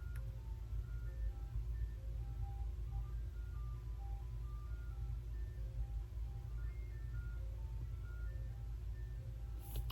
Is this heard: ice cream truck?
yes